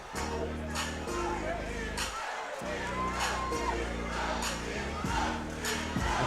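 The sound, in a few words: boxing crowd chanting Tiburon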